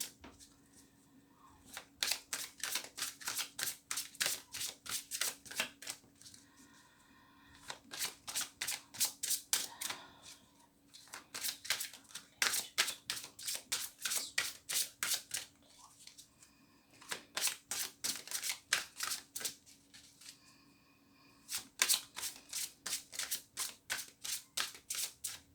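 Oracle cards being shuffled by hand in repeated bursts of rapid riffling flutter, several seconds each with short pauses between, close and clear with no talking.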